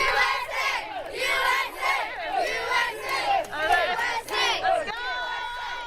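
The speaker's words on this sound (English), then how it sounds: "Fans were cheering on Team USA in the city of Artesia at a FIFA World Cup watch party." Fans of Team USA roar and chant together at a FIFA World Cup watch party in the city of Artesia, loud crowd cheering swelling in repeated waves of shouted voices, dense and close throughout.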